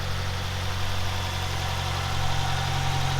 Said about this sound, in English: You definitely got an exhaust leak. Oh yeah, a little loud.